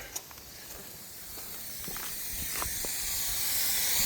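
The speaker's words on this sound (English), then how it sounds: "You can hear air coming out." A steady broadband hiss of air escaping from a lawn sprinkler head before it pops up slowly builds in loudness, with a few faint clicks and taps scattered through it.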